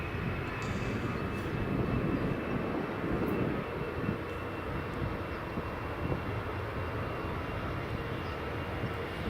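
An EasyJet airliner rolling down the runway at Edinburgh Airport, heard as a continuous mid-distance engine rumble with a thin high whine running through it.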